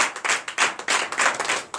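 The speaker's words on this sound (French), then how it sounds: "Donc je vous demande d'applaudir très fort." Church congregation at a Sunday service in Comè, Benin clapping in quick rhythmic bursts, several loud swells of hand claps close by over a brief stretch.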